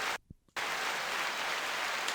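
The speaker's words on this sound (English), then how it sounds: "Oh, there's applause." A canned applause sound effect played from a soundboard gives a dense, steady wash of clapping. It cuts out briefly near the start, then resumes and holds at an even level.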